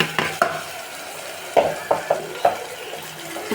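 Washed rice and spices sautéed in a pot for khichdi, giving a low sizzle with several distinct scraping stirs of a spoon against the pot, close and fairly clear.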